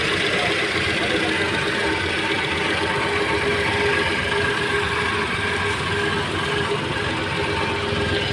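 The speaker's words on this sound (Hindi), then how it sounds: "मैं बस इसको रमा होने देता हूँ बढ़िया से इंजन को।" A repaired Renault Kwid petrol car engine idles steadily for the whole stretch, a loud continuous close-up hum with a faint knocking texture and no talking over it.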